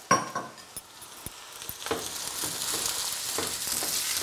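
Carrots and French beans frying in a pan, a soft steady sizzle building up, with a few light clinks and stirring knocks of a utensil near the start.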